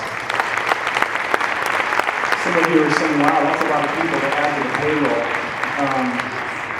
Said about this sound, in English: let's give each of these individuals a big round of applause